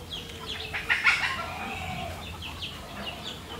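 Desi chickens cluck near and fairly loud on a farm where hens lay eggs, with a few sharper squawks and calls over a steady background hum and no talking.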